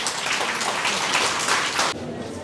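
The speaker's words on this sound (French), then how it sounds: "Sous vos applaudissements, s'il vous plaît" An audience applauding at a school year-end closing ceremony in Conakry, brisk, fairly dense clapping for about two seconds, then cutting off abruptly into quieter room noise.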